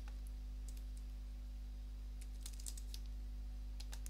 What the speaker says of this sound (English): type in the password to confirm